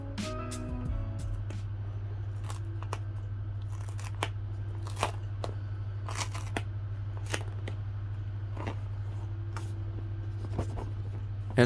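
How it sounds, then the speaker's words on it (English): Wrapping on a new Samsung Galaxy Tab A8 (2022) tablet peeled open, a series of short crinkly rips and rustles close to the mic over a constant low electrical hum, with no voices. "I'm going to quickly peel open the fabric."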